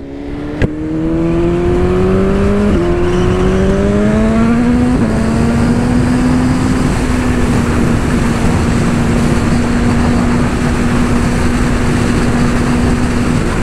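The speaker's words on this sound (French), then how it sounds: "cette moto qui est un 4 cylindres en ligne" A 2022 BMW S 1000 RR inline four-cylinder motorcycle engine revs up through a couple of gear-like steps, then settles into a loud, steady high-pitched drone that holds without a break.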